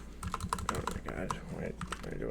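Keys clatter on a computer keyboard in quick uneven bursts, close and moderately loud, with a voice talking faintly underneath.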